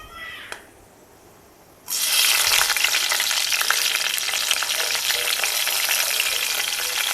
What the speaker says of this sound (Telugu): ఆయిల్ వేడైన తర్వాత సాజీరా, ఇలాచి, పట్ట, లవంగాలు,